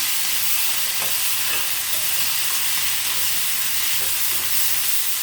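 Onion sautés with ginger garlic paste in a pan for an egg masala, giving a constant dense sizzling hiss throughout, close and fairly loud, with a few faint stirring taps.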